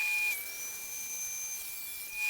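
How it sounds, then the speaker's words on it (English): A saw cutting a wooden drawer front down to size for a custom kitchen cart, a steady close rasp running continuously under a faint high tonal whine. "Here I have my drawer front, which I'm cutting down to size."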